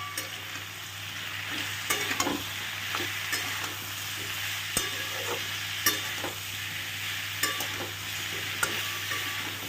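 Mixed summer vegetables with turmeric and salt are stirred in a frying pan, a steady sizzle broken by repeated clinks and scrapes of the spatula against the pan at a close, moderate level with no talking.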